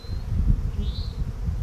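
Honeybees buzzing during a hive transfer, a short, close, steady hum with low rumbling and no voices.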